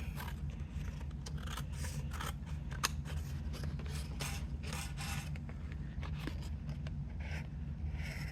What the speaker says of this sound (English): I want to cut the folder now.